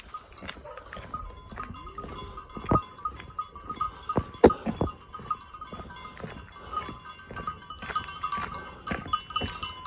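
Livestock bleats rise from a farm field among clinking bells, several calls scattered over a soft background with sharp metallic chinks, no voices present.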